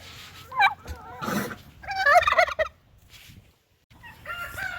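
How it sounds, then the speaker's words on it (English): Chickens cluck and squawk close by in short bursts, with a loud rising call in the middle and brief pauses between. "these are my chickens"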